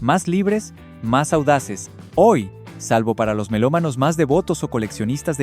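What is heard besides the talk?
No everyday noises stand out.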